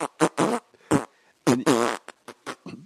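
A voice imitates a fart on an exercise ball echoing inside it, with a string of blubbery, buzzing bursts of varying length, loud and close with short gaps between.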